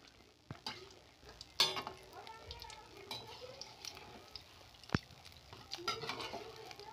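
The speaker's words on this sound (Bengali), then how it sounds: "আমি একবার পোয়া পিঠেটা এইভাবে আমি তেলের মধ্যে আমি দিয়ে দেবো। এইভাবে সব কটা আমি ভেজে নেব।" Poa pitha, a sweet rice-flour fritter, frying in oil, a quiet low crackle with occasional clicks and knocks of utensils against the pan.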